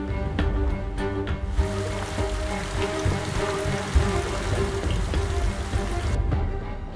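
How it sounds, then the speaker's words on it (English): Torrential monsoon rain pouring over the Colorado Plateau, a dense continuous hiss of falling water with scattered heavier drop impacts, loud and steady throughout. "Water droplets condense and fall in torrents."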